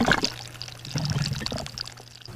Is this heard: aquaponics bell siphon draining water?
yes